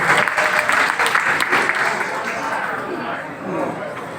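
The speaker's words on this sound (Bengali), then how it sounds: "সবাই একটু হাততালি দিবেন।" Audience applause at an Eid reunion gathering of Bangladeshi film artists, steady dense clapping throughout, fading slightly toward the end with faint crowd chatter mixed in.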